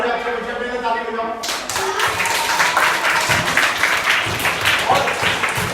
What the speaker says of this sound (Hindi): ये सारे अच्छे बच्चे मेरे ताली बजाओ